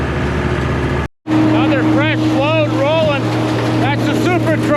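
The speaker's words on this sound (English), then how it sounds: "Just inching this tractor forward." A farm tractor inches forward while baling hay, its engine holding a steady low drone throughout after a brief cutout near the start, with someone talking over it close by.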